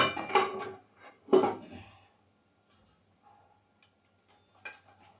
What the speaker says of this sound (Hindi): ये लोहे की कढ़ाई ले ली मैंने